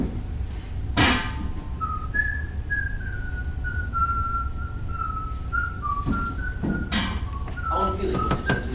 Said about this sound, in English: How unfeeling must a gentleman be to whistle at the grave day?